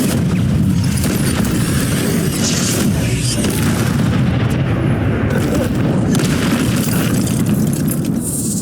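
A fiery Incendio spell blast booms in Hogwarts Legacy, a dense, loud roaring burst of magical fire and impacts that stays heavy and continuous with crackling bursts throughout.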